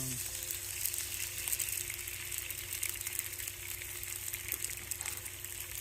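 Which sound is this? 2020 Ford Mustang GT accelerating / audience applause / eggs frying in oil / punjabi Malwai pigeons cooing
eggs frying in oil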